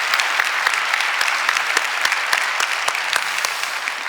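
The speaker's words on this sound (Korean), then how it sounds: "우리 주님께 영광의 박수 올려드립니다" A church congregation claps steadily through a New Year's Eve worship service, a dense, even wash of many hands with scattered louder claps, close and sustained throughout.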